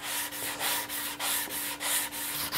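Rhythmic abrasive rasping of a sanding block on a wooden guitar neck, about eight steady back-and-forth strokes, close up with no talking.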